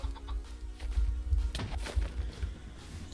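Several short clucks from a chicken in the video game Bawk Bawk Battles, with a few soft thumps and low rumbling underneath.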